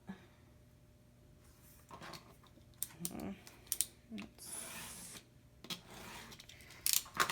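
Scissors trimming the rough top edge of paper ephemera, quiet snips and paper rustles in short irregular bursts, close and soft with a brief swishing stretch midway.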